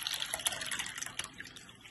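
Soaked mixed lentils for multigrain dal idli pour into a strainer, with a close, continuous splashy rush of water and wet grains and a few brighter drips, with no talk.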